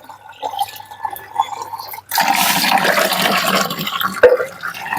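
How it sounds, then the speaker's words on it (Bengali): Diluted mustard oilcake water is poured onto a potted chrysanthemum plant: a few soft drips, then a sudden steady splashing gush that runs on close by, with no talking. "তাই আমি পাতলা করে খোল জল দেবো"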